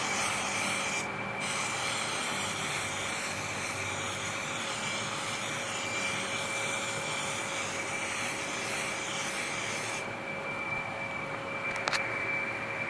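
Steady abrasive sanding on the body of a 1990 Honda CRX DX, a continuous close rubbing hiss with a constant tonal whine from the sander, loud and unbroken throughout with no talking.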